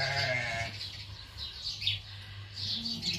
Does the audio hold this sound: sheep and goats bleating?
yes